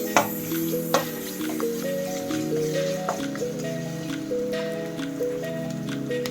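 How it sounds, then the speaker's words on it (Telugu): Onions and ginger-garlic paste fry in a pan with a steady sizzle and occasional stirring clicks, while background music plays along. "ఆనియన్స్ ఫ్రై అవుతున్నాయండి."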